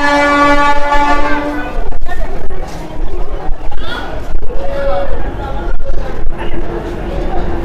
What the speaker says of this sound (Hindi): और एक ट्रेन भी आ गई है